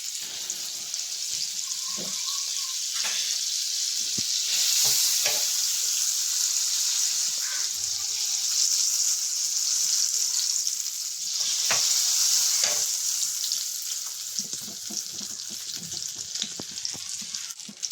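Butter melting over sunflower oil in a hot pan sizzles steadily and closely, with crackling spits and a few light clinks of utensils scattered through the continuous frying hiss; no one speaks.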